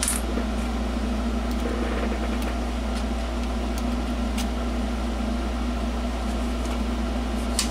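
A Dremel rotary tool cuts inside a twist-lock electrolytic capacitor being restuffed, a continuous, steady, close whining hum with a low drone and faint scraping ticks, no talking.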